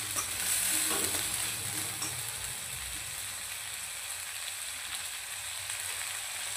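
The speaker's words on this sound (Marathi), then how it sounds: "त्याचसोबत अद्रक लसूण पेस्ट आणि खसखस खोबऱ्याचं वाटण आपण त्यामध्ये मिक्स करूया।" Ginger garlic paste and a poppy-seed and coconut masala stirred in a hot pan, giving a soft, even sizzle. It starts a little louder, then settles into a quiet, constant hiss.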